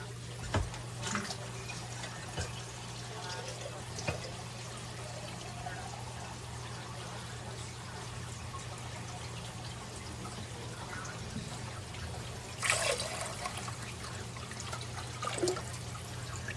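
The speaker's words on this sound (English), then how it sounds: "So we're going to add water to that now" Water pours steadily into a pot of homemade chicken broth for a long stretch, a constant splashing stream over a low steady hum, with a few clunks.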